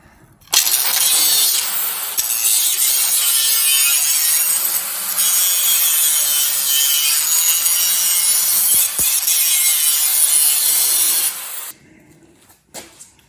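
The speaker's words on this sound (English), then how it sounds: "Think I'm gonna try the Sawzall." A Sawzall reciprocating saw cuts through metal on a cultipacker transport wheel setup, a loud, harsh, continuous buzzing rasp lasting about eleven seconds close up before it stops, with a few faint clanks afterward.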